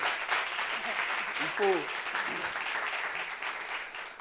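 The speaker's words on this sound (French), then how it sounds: "Applaudissements pour cette tenue-là et cette belle femme" A studio audience on a French talk show applauds a guest's outfit, a soft continuous patter of many hands at moderate distance, with a voice speaking briefly over the clapping.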